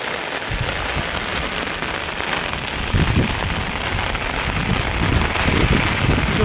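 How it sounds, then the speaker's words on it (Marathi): Heavy rain pours down steadily across hilly farmland, a dense, loud, continuous patter close by, with occasional low rumbling gusts of wind. "जोराचा पाऊस आलाय आता"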